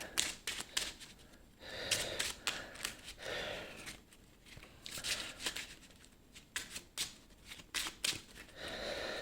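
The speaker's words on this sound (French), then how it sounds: "On peut mélanger." A deck of game cards shuffled close by during a tabletop card game: rapid riffling and crisp flicking bursts that repeat in uneven clusters, quiet and alone.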